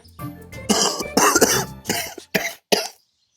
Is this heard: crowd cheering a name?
no